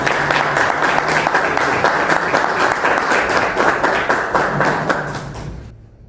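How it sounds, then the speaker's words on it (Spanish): Sustained audience applause welcoming Professor Urbina at an evangelization mission talk, steady dense clapping from a crowd that fades out toward the end. "Quisiera entonces que recibamos al profesor Urbina con un aplauso."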